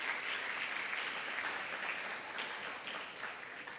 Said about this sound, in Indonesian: Tepuk tangan sekali lagi untuk teman-teman semuanya.